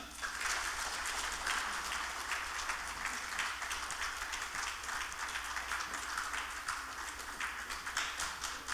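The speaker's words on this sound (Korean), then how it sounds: "자, 경기도에게 박수하겠습니다" An audience at a New Year prayer breakfast for community leaders applauds with sustained, even clapping for several seconds, moderately loud and steady, with no speech over it.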